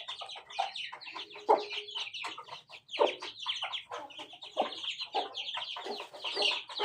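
Chicks and hens in a village, clucking and cheeping in quick irregular bursts, fairly close, with overlapping calls and brief pauses, no talking.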